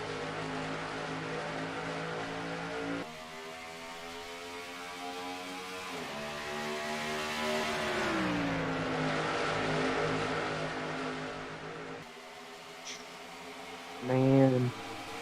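Stock cars roar off at the start of a race at Charlotte, a dense layered drone of engines revving and shifting, rising and falling in pitch as the pack passes, loud and continuous.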